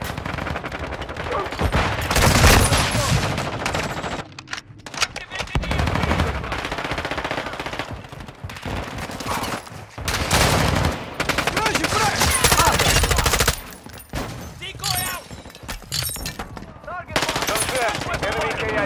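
Gunfire in the shooter game Call of Duty: Modern Warfare II, loud close bursts of rapid automatic fire and single shots in repeated volleys with short pauses, while voices call out over the shooting.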